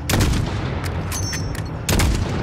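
Gunfire in the Call of Duty Modern Warfare campaign, with repeated booming shots and rattling bursts over a continuous noisy battle backdrop, loud and close.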